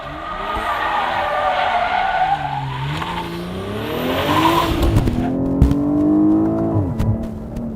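Grand touring car driven in sport mode, engine and exhaust rising and falling in pitch through several revving pulls, with a sharp crackle near the end, loud and close, no talk.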